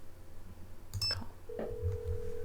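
Telephone ringing during a call in a puzzle video game, a short electronic ring followed by a steady held tone, clear and alone with no talk.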